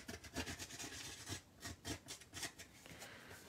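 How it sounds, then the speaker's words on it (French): Scissors blades scraping and rasping across cardboard to give it an aged look, a close, quiet run of rough rubbing strokes repeated in a steady back-and-forth rhythm. "Il s'agit juste de le tenir quand même assez proche pour être capable de gratter."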